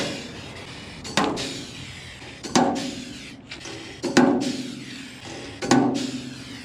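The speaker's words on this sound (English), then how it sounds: "Now I can go ahead and install my rivets on every other hole." Rivets set one at a time into a mini camper's body, giving four sharp metallic snaps spaced a second or two apart, each with a brief ringing tail over a quiet background.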